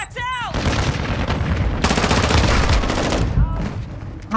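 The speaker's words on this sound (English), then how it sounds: "I was firing all out." Sustained automatic gunfire in Modern Warfare 2 forms long, dense bursts of rapid shots with booming impacts, loud and close, and a voice speaks briefly at the start and again near the end.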